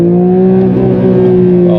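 A Porsche 911 GT3 992 Touring with a manual gearbox, running at high revs on the autobahn: a loud, sustained, even engine drone heard from up close, with no voices.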